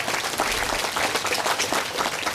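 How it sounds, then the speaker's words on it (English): An outdoor crowd at a remembrance event for Hurricane Ian at a bayside park claps in loud, sustained applause that carries evenly through the whole span. "make sure you give her a round of applause."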